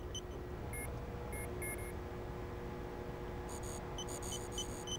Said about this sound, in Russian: Эти звуки, честно говоря, пищащие.